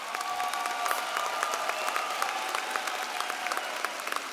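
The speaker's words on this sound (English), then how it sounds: "so we can give you a round of applause?" A crowd at a graduation ceremony claps continuously, with dense, steady applause throughout and no voices standing out.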